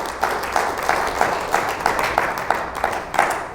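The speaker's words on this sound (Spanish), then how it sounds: "fuerte el aplauso al Señor" A church congregation claps in praise during a Spanish-language sermon, a loud, rhythmic unison beat of about three claps per second, steady and close throughout.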